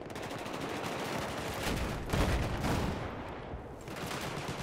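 Gunfire in Battlefield 4 on the Siege of Shanghai map, a dense stretch of rapid automatic shots crackling over continuous battle noise, fairly faint and distant with a few stronger bursts.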